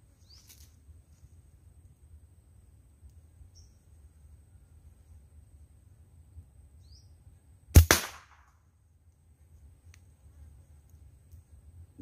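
A handmade slingshot fired with the fork held upright gives a single sharp snap of the band release near the middle, standing alone against a quiet low rumble of background.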